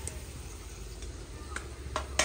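A small ladle stirs and scrapes biryani masala sautéing in a large biryani pot, with soft sizzling and a few sharp metallic clinks toward the end.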